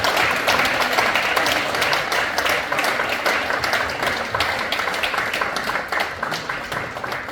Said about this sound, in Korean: 축하의 박수